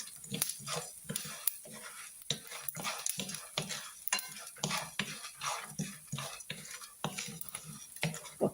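Cumin, black pepper and asafoetida sizzling and frying in a pan for a pepper kulambu, with a spoon scraping and stirring in repeated strokes throughout, close and steady.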